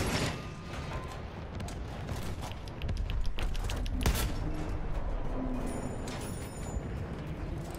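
Muffled booms of naval guns in a battleship combat game, a cluster of distant bangs over a steady rumbling sea-battle background.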